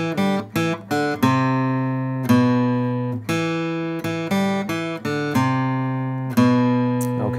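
An electric guitar plays a riff, a loud, clean run of single notes with the long sustained notes clearly repeated, played alone with no talking.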